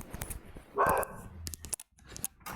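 A single sharp dog bark rings out close by in an apartment amid quiet room noise and faint shuffling, followed by a few small clicks and rustles.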